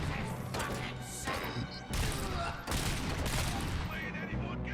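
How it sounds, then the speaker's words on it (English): Gunfire in the video game RoboCop: Rogue City, dense bursts of shots and crashing impacts running continuously with a voice partly beneath them. "Just shot him straight between the sunglassed eyes."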